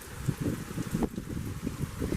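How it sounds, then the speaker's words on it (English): Strong gusty wind blasts the microphone outdoors during a thunderstorm, a continuous rumbling buffet that swells and eases in uneven gusts, loud and close with no clear speech. "This is windy. This is windy."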